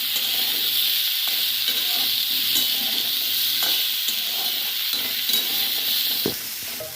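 Banana fry mixture stirred in a pan over a medium-high gas flame: loud steady sizzle with scattered spatula scrapes and clinks, ending in a sharper knock as the sizzle drops slightly.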